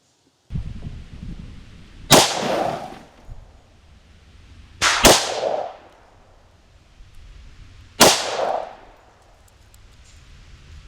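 Three sharp 10mm pistol shots at a target with reinforcing steel, the first fired through glass, ring out loud and well spaced, each with a short echoing decay and no talk.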